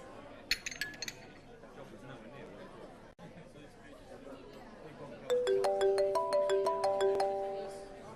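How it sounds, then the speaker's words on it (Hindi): A mobile phone ringtone rings in a home, a bright repeating melodic tone starting partway through, after soft clinking and muffled talk. "अबीर का फोन है, मैं बात कर लेती हूँ।"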